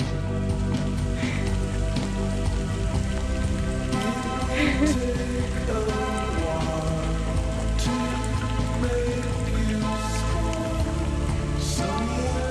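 Heavy rain pours down steadily during a hike on Cerro Alto, a dense constant patter of drops striking the ground and gear nearby, with no talking.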